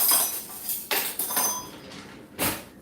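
A whisk beats a mixture in a bowl for spiked apple dumplings, giving a few irregular, fairly close clinks and scrapes of metal against the bowl, with no voices.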